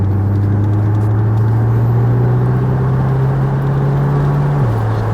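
A car rolls slowly out of the National Corvette Museum across the street over a series of dips, its low engine hum steady and close with a constant droning tone and road rumble.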